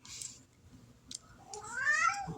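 A domestic cat indoors gives one drawn-out, rising and falling meow at close range, preceded by faint clicks and handling noises over a low background hum.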